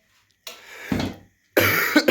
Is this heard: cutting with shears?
no